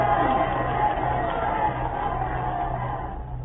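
An old radio-play crowd of spectators cheers and shouts for their hero Tamburlaine, heard as a dense, steady wall of roaring voices through a narrow, muffled band.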